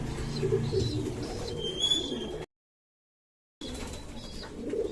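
A pigeon coos in low, repeated throaty calls nearby, with some soft rustling and faint chirps. The sound cuts out to full silence for about a second midway, then resumes.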